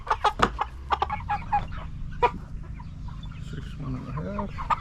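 Meat chickens, eight-week-old birds in a farm flock on a hot day, clucking and squawking in short bursts close by, with steady low background noise and faint voices.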